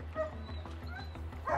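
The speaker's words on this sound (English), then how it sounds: "She is one of the more reactive dogs we've seen in a while as far as vocalization goes." A highly reactive dog gives short yips, whimpers and bow-wow barks in quick succession during a training session, close and moderately loud over a low background hum.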